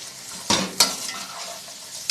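Carrots go into a hot pan for stir-frying, two quick scraping strokes cutting through a steady, close sizzle.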